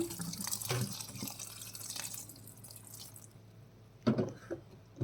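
Water being poured into a pan of meal maker and tomato curry, a quiet trickle and splash followed by a few soft drips and sloshes close by.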